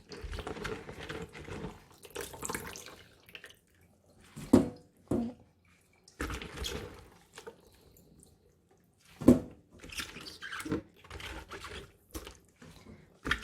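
Cabbage for kimchi is washed in a basin of water, bringing intermittent splashing, dripping and sloshing bursts separated by quiet gaps, fairly soft and close.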